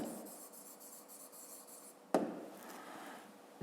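Pen or pencil writing numbers on paper during a fifth-grade math exercise, faint close scratching strokes, then a sharp tap or bump near the end.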